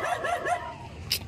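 A puppy gives a few quick, high yapping barks, close and fairly quiet, followed by a brief sharp yip near the end.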